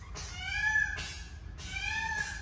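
A pet cat meows twice, each call a drawn-out, rising then falling cry, close and fairly clear over a low background hum.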